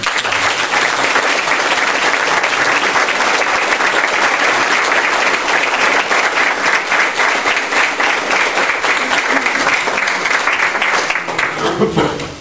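A hall audience in Rofrano applauds to welcome and congratulate the politician Copersi, sustained loud clapping that stays full and even for about twelve seconds before stopping abruptly, with faint voices mixed in.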